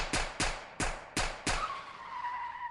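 Two cars, a Dodge Charger and a Dodge Durango, speeding off from a red light after a street shooting. Five sharp skid bursts come in quick succession, then a tire squeal trails off into a lingering whine, with no voices.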